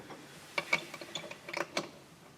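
A fired brass rifle case turns in a concentricity gauge after a standard sizing die, giving a quiet series of small metallic clicks and ticks, irregular and close, with no talking.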